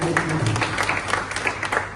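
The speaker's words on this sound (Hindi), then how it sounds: "एक बार आपके लिए जोरदार तालियां" A crowd at a BJP political welcome event in Kota breaks into applause, a rough, uneven clatter of clapping heard under a voice speaking over a microphone.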